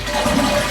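A household toilet with a leaking, too-low flange flushes close by, one continuous loud rush of water through the whole short stretch.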